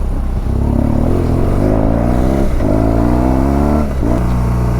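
A BMW GS motorcycle engine revs hard on an off-road track, loud and close, with rising and falling pitch sweeps as the throttle opens repeatedly over a constant rough drone.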